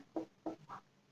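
Three short scratchy pen or marker strokes while writing math on a board or paper, close and faint, each a brief rub with small gaps between.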